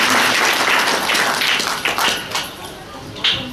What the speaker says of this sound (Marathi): आपण जोरदार टाळ्या वाजवूया त्यासाठी